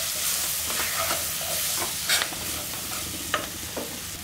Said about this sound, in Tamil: இப்போ எல்லாம் ஒண்ணா போட்டு வதக்கிடலாம்